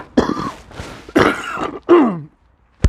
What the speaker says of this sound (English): coughing my head up, coughing my guts up here